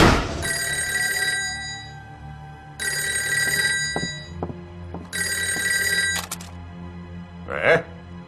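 An old-style telephone bell rings loudly in three long bursts, with short silences between them, in a Japanese military office during the war against Japan. Brief knocks and rustles fall between the rings, and a short voice is heard near the end.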